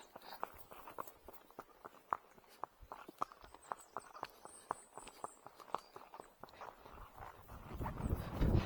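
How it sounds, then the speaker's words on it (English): A horse cantering along a field edge, hooves striking the ground in a quick, steady three-beat rhythm, close and clear, with wind noise rising toward the end. "So we'll have a little canter along this edge here"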